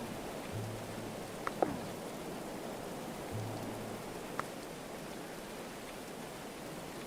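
Steady soft rain hiss from the medieval colony-building game Going Medieval, a constant wash of noise with a couple of faint low hums and small clicks, no voices.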